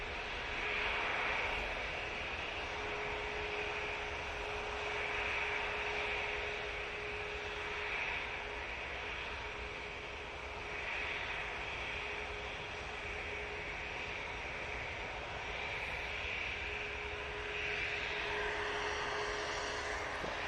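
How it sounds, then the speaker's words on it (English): An Airbus A321neo departing Manchester Airport: a distant, steady jet engine roar with a faint whine, even and moderate in level, lasting the whole stretch with no talk. "And finally, that 321neo gets away on its journey."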